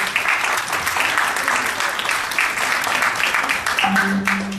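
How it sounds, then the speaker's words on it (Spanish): A crowd at a product launch event gives a speaker a loud welcoming round of applause, steady dense clapping throughout, with a voice starting to come in near the end. "lo vamos a recibir con un fuerte aplauso para que esta noche sea de total provecho"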